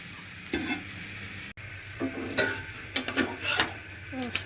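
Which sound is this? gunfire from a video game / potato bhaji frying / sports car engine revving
potato bhaji frying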